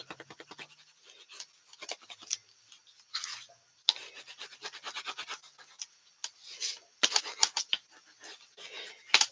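Burnishing by hand, rubbing down material for a miter joint, a close series of quick scratchy rubbing strokes in irregular bursts, some sharper than others, with no talking.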